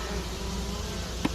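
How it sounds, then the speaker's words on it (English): Honeybees hum in a steady, dense drone at the front of an established hive, close and continuous with a brief louder buzz as one passes near. "Not a good idea to hang around fronts of hives because you have worker bees coming in and out"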